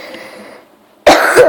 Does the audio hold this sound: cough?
yes